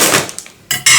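A kitchen knife prying open a granola container: a few light clicks and scrapes, then two loud, bright bursts of hard plastic rattling and cracking, close by.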